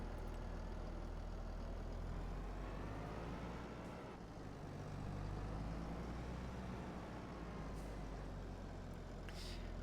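A tractor engine runs steadily throughout, loud and close, with a continuous low rumble and no talk over it.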